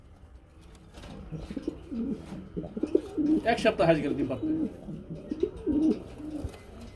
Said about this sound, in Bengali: দেখেন কি ডাকা ডাকি কবুতর দেখতে পাচ্ছেন বন্ধুরা।